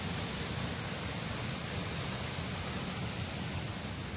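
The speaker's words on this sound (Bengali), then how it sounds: "ওই যে পড়ছে জল অনবরত, দেখতে পাচ্ছ জল পড়ছে" Small waterfall with water pouring continuously from a height, a steady broadband rush heard from a distance, even and unbroken.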